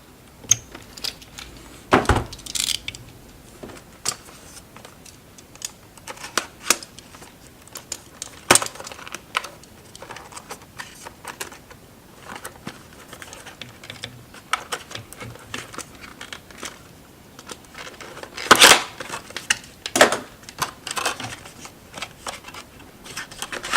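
Packaging for a WD Easystore portable 4TB external hard drive, a box with a plastic insert inside, is opened up close: scattered crinkles, rustles and sharp snaps come in irregular bursts over quiet stretches, with no talking.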